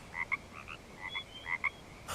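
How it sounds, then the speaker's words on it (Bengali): Frogs croak outside at night after a rainstorm, giving paired, rhythmic calls that repeat several times, fairly close and alone with no voices. "ব্যাঙের ডাক ভেসে আসছে বাইরে থেকে"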